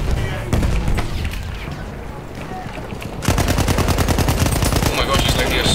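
A BAR automatic rifle firing in the World War I shooter Battlefield 1. A single shot and some scattered battlefield noise come first, then a loud, fast, sustained burst of automatic fire takes over for the last few seconds.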